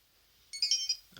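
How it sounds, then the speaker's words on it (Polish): A Nokia 2600 Classic phone plays a short original built-in tone, a faint bright electronic chime of a few quick notes lasting well under a second, alone in near silence. "Sprawdzimy sobie oryginalne dźwięki tego telefonu, jakie wybrała nam Nokia."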